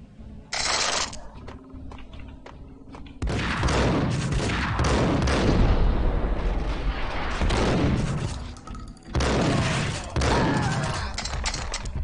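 Gunfire in the shooter game Max Payne: loud bursts of shots and booming blasts in several long stretches separated by brief pauses, sharp and close.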